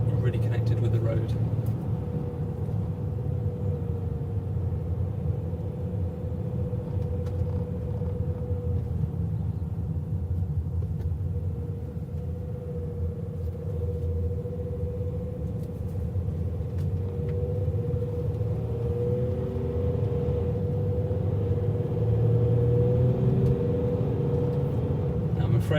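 A large car driving on the road, heard from inside as a steady low engine and road rumble with a faint whine, while someone talks over it throughout.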